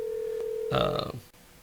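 A telephone line rings once as a call is placed to a cell phone on a radio program, preceded by a steady tone, loud and close, then cut off.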